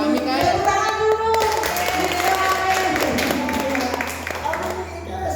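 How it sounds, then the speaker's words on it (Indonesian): Applause from an audience at a church or community gathering greeting an alumnus, a burst of clapping with voices talking over it, tapering slightly toward the end. "Tepuk tangan dulu"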